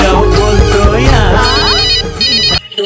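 A telephone ringtone plays loud and close as a melodic electronic tune with repeating tones, cutting off abruptly near the end.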